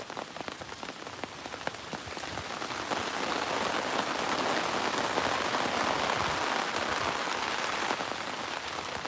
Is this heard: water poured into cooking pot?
no